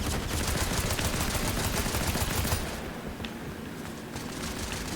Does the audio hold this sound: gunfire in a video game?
yes